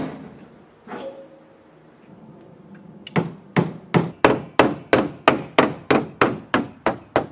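Sharp repeated hammer whacks on a car body panel during auto bodywork, about a dozen loud, evenly spaced metallic thwacks close by after a quieter lead-in with a faint knock.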